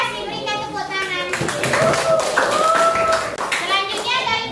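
Classroom applause from a group of students, a burst of clapping that swells and holds for a few seconds, with children's voices and an adult speaking over it.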